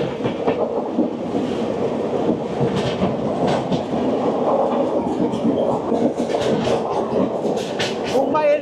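A passenger train, the Coromandel Express, runs between Eluru and Vijayawada, giving a continuous loud rumble of wheels and carriage noise with faint rhythmic clatter throughout, while people are heard talking.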